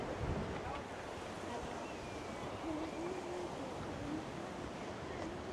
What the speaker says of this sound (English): Ah, it is nice and windy here, just as promised.